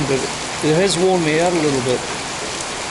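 Steady rain falls in Danang, Vietnam, a dense, even hiss of drops on surfaces throughout, while someone speaks briefly over it in the middle.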